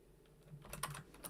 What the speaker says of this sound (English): I'll go back to my Word document and type that in